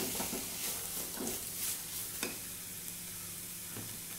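Green chilli and tomato sautéing in a pan, with a continuous close sizzle and a few soft stirring scrapes from a utensil, no voices.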